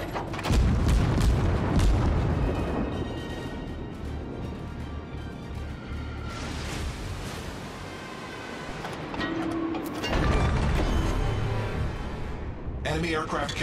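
Naval guns fire armor-piercing shells in the World of Warships game, with deep booms and rumbling blasts rising and falling across the battle mix while a person talks over it.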